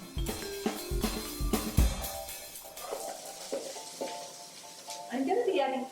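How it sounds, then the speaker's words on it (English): Onions sauté in a little oil for meat pie filling, a soft steady sizzle with clattering utensil knocks and stirring scrapes on the pan, under a person talking. "We're going to start by sauteing the onions in a little bit of oil."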